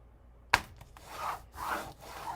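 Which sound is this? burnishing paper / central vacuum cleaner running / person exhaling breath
burnishing paper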